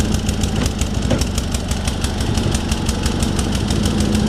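A Sears SS16 garden tractor engine runs on a cold start at -25°C with a broken choke, overfueling, a loud, fast, even knocking putter idling steadily throughout.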